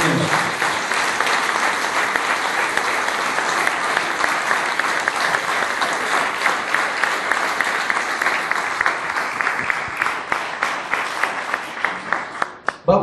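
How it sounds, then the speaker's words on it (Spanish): A large church congregation applauds, dense and sustained, with the clapping thinning into scattered individual claps toward the end. "Denle un aplauso al Señor."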